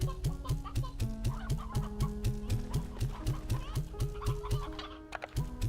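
Chickens and roosters in the Slime Rancher 2 video game cluck in a busy, overlapping stream of short repeated calls, close and continuous, with a brief drop near the end and no talk over it.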